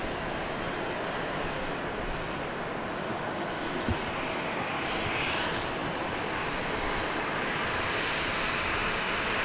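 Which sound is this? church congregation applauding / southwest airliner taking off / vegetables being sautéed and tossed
southwest airliner taking off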